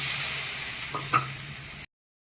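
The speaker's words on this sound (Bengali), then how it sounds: "মশলাটা কষিয়ে নিই" Spice paste with turmeric being sautéed for aloo dum, a brief steady sizzle with a single spatula knock before it cuts off.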